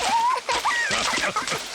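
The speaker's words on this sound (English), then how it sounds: "Peppa and George both like splashing" Children splashing water in a bath in a cartoon, with bright splashing and sloshing running throughout the short stretch alongside animated character voices and chatter.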